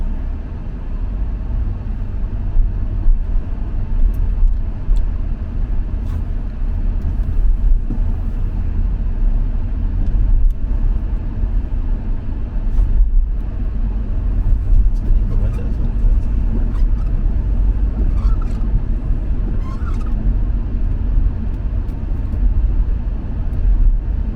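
Steady interior road noise inside a car on a drive home, a loud low rumble with tire hum and occasional soft knocks and bumps running throughout, with a voice talking intermittently over it.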